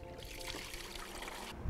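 Water rinses the waste cassette of a camper van toilet, a steady soft trickling and swishing, faint and close, with a slight thump at the end and no speech.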